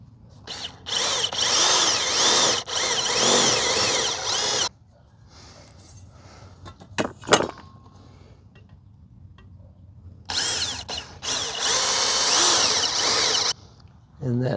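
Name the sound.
power drill drilling a 1/4 inch hole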